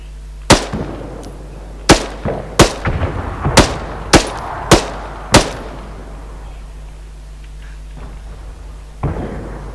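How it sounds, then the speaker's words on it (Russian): Sharp explosive blasts from an RPG and other weapons in the Arma 3 military shooter, about seven loud cracks spaced a second or so apart with echoing tails, then a quieter pause and one more distant shot. "Из РПГ на второй этаж это стреляет"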